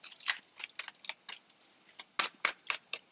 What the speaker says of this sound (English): Or I'm shuffling too well.